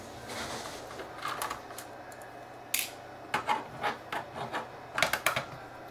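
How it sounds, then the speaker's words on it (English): Screws being removed from the base of a Samsung NP355V5C laptop, giving faint scraping and rubbing with a series of sharp close clicks that cluster toward the end. "I'm going to remove the screws on the base of the laptop"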